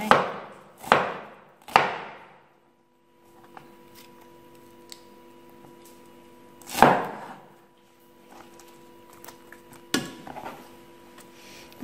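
Fresh bamboo shoots chopped on a board: three loud, sharp knife strikes in quick succession, a pause with faint low hum and small clicks, then another heavy chop and a lighter one near the end.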